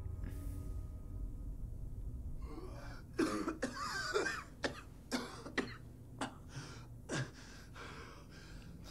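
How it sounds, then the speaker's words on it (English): Several harsh coughs and gasping breaths come in irregular bursts over a low ambient hum in Fallout 4, with no talking. "A lot of coughing."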